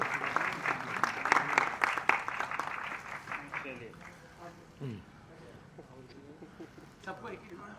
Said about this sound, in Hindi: ये एक बार जोरदार तालियां कौशल जी के लिए